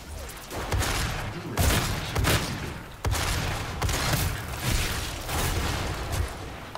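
Rocket launcher fire in DOOM multiplayer: a dense run of loud, close blasts and booms, with sharp explosive bursts recurring every second or so over a steady roar of game combat.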